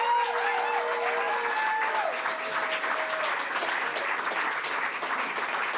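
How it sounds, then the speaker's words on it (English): An election-night audience applauds steadily during a victory speech, with a dense wash of clapping throughout and held music tones early on. "Let's give them a round of applause."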